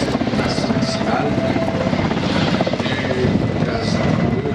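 A Kamov Ka-52 helicopter flies a display at the Paris Le Bourget air show in 2013, its loud rotor chop and engine whine steady throughout while a voice speaks over it.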